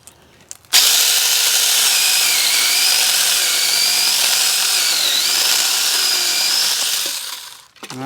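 A SEYVUM mini chainsaw cuts through a thick piece of wood: the motor starts abruptly and holds a loud, steady high-pitched whine for about seven seconds, then winds down and stops.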